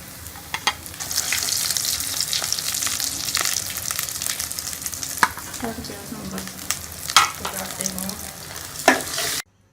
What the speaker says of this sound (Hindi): फिर हम फिर दूसरे पीसेस फ्राई कर लेंगे।